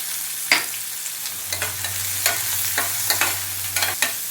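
Onions frying in a pan with a pinch of turmeric, a steady close sizzle broken by sharp spatula scrapes and taps at irregular intervals, with a low hum underneath.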